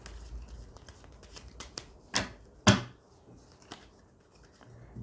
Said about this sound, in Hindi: कभी कभी शफल करने में समय लगता है, पर आप लोग ही चाहते हो शफलिंग सामने की जाए